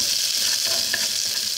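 Garlic sizzles in oil in a pan that burns quickly, giving a steady, close hiss of frying with a faint stir partway through.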